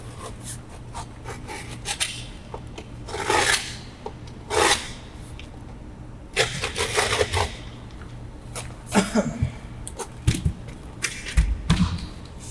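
A utility knife cuts AQUAPANEL cement board in repeated rasping, scraping strokes that come in bursts with short gaps, close and fairly loud, with some lighter rubbing and knocks in between.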